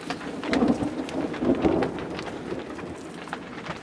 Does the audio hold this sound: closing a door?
no